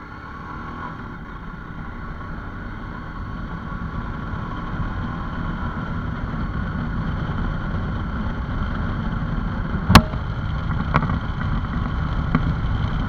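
A steady Royal Enfield Himalayan motorcycle engine drone with wind rushing past the microphone while riding, building gradually, with a couple of sharp knocks near the end.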